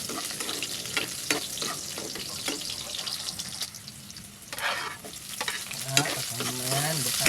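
Onions and garlic frying in a pan for squid adobo, a continuous soft sizzle broken by scraping stirs and clinks, with a brief burst of running water near the end.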